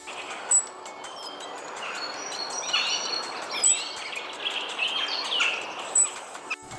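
A European robin sings in short, high, warbling phrases, clear but not loud, with other faint chirps and insect buzz in the background.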